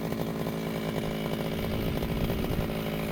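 A brush cutter mows grass in a sunny late-September rice field, its engine droning steadily and loudly at close range without a break.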